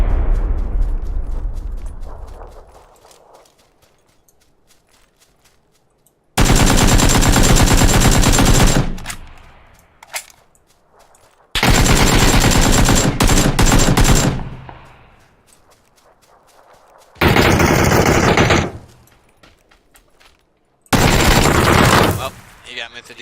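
DP-28 machine gun bursts in PUBG: four loud, sustained volleys of rapid automatic fire separated by quieter gaps, with a low rumble fading out at the start.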